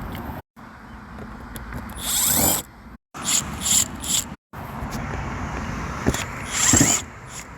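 A Milwaukee impact driver backs screws out of the engine compartment of a 2014 Cadillac ATS in short whirring, ratcheting bursts with brief pauses between them, close by and fairly loud.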